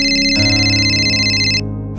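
A phone's ringtone plays loudly and close, a bright electronic melody that cuts off abruptly after about a second and a half.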